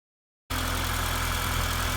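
A 1989 Volkswagen Jetta engine, recently repaired after a no-start fault, starts up after half a second of silence and then idles with a steady, even, smooth hum close to the microphone.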